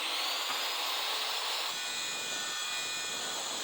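A saw cuts through a wooden board clamped on a homemade shop table, giving a steady, close rasping hiss that shifts in tone partway through the cut.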